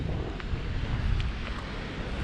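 Wind roars steadily against the microphone at the shore on a chilly mid-November wild camp as the tide comes nearly all the way in. Waves wash faintly underneath, and no one speaks.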